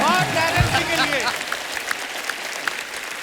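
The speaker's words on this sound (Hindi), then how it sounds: "जोरदार तालियां" Applause from a TV show audience welcoming the judges, heard in the background as a host speaks over the start, then scattered claps that continue more faintly on their own.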